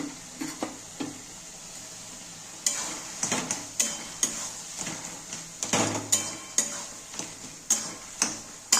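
Prawns fry with taro leaves in a pan, a steady background sizzle broken by rhythmic, close clinks and scrapes of a spatula stirring against the metal.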